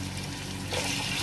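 Chopped onions frying in a pan until golden for Afghani kabuli chicken pulao, a steady close sizzle and hiss that swells louder and brighter partway through, with no talking.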